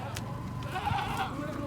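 Goats bleat at a livestock market in Multan, a couple of short calls standing out faintly against crowd noise and talk.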